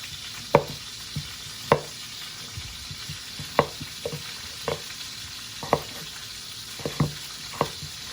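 Potato chunks sizzling steadily in a pan while being stirred, with a continuous close frying hiss punctuated by repeated sharp clacks of the utensil at irregular intervals.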